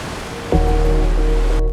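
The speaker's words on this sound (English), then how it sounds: "On this bridge the surf is all around you." Ocean surf washing around a bridge at Ponta do Sol on Madeira's coast, a steady broadband roar that swells louder partway through and holds, with a low tonal hum underneath.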